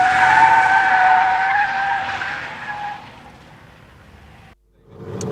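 A race car skids sideways at a racing school, tires squealing loudly and close with a sustained screech that fades over a few seconds, then breaks off into brief silence before a new burst of noise.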